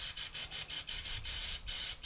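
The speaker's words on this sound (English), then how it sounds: "we're gonna spray it all down" Cleaner hisses from a spray can onto the rear differential of a Mercedes SL55 AMG in a quick series of close, short bursts separated by brief pauses.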